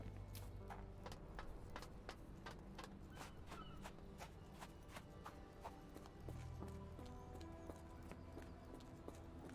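A horse's hooves clip-clop at a steady walking pace in the Sherlock Holmes The Awakened video game, sharp regular knocks ringing out over a constant low background hum.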